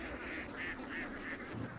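Ducks quack in a loose series of short nasal calls over a steady outdoor background in a harvested farm field, several birds calling close by.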